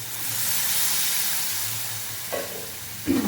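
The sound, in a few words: water added to hot pan with small fish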